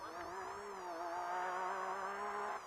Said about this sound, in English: Listen to that car working really well.